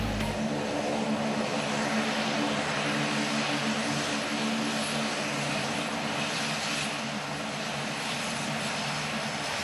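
The Air India One VIP aircraft lands at Delhi International Airport, producing a loud, continuous engine roar that holds steady throughout with no speech.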